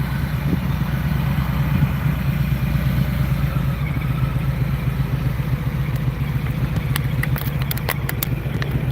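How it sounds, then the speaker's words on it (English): A motorcycle engine idling nearby, a steady low rumbling chug that holds even for the whole stretch, with some faint clicking toward the end. "the more miles that go on the bike too, the better it's sounding"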